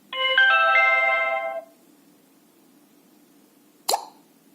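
Xiaomi Zero doorbell sounds its setup prompt after the button is held: a bright, bell-like chime rings for about a second and a half, then after a pause a short, sharp electronic blip follows.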